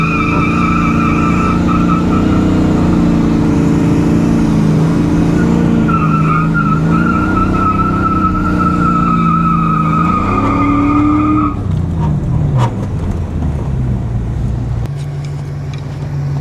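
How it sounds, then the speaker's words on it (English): A wrecked 1993 Ford Mustang Cobra does a tire burnout: a loud, continuous tire squeal over a roaring, revving engine that shifts pitch, then a rougher ending with clatter as the tread tears. "So let's smoke up the tires."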